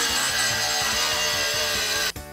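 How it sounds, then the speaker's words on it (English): An angle grinder fitted with a diamond blade cutting fiberglass makes a loud, close, high whine with a slight rhythmic pulsing, then abruptly cuts out near the end. "use these discs plus a Shark Diamond saw blade and turn that old grinder into a fiberglass cutting tool"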